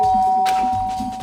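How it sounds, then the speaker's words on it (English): A doorbell chimes in the Danganronpa video game, a single bright electronic ding-dong tone that rings clearly and then decays over a steady game background hum, with no one talking. "I pressed the doorbell."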